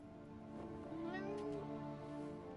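A cat in the video game Forspoken gives one short, rising meow, heard close over a faint tonal game background.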